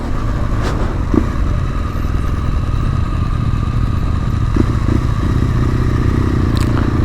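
A motorcycle rides up a mountain road at Colle Fauniera in the Italian Alps, its engine droning steadily and close throughout, with light clatter and wind noise.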